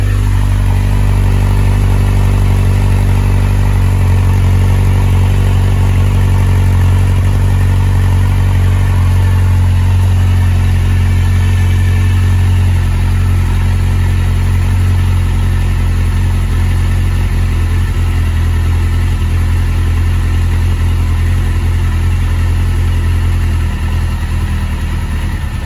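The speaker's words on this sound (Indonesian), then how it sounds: "Ni exhaust standard. So ni bunyi ya." A motorcycle fitted with its stock factory exhaust idles steadily and loudly up close, a deep, even engine drone holding constant for the whole stretch with no revving or speech.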